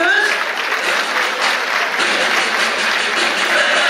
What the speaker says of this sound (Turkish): Evet, daha kuvvetli alkışlar istiyoruz.